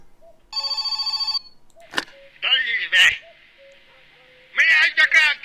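A telephone rings inside the video game My Summer Car, a burst of electronic bell tone followed by bird-like chirps and loud harmonic bursts, with a voice speaking between the sounds.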